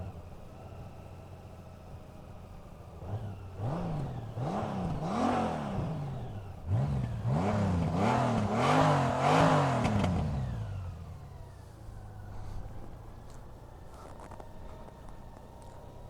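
A Honda Goldwing motorcycle engine is started and revved in a series of short rising throttle blips, muffled and smooth, before dropping back to a soft, low idle.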